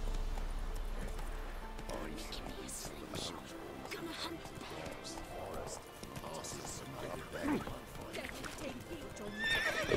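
Roach, Geralt's horse in The Witcher 3, galloping along a road with steady clip-clopping hooves and snorting whinnies, while someone talks over the ride and game music plays beneath.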